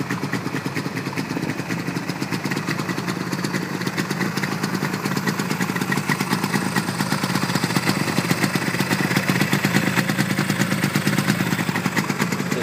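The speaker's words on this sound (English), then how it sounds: "This is Yamaha's two-cylinder twin two-stroke 400cc engine" A 1977 Yamaha RD400 two-stroke 400cc twin motorcycle idles steadily close by, a continuous even burble with a fine rapid clatter and no talking.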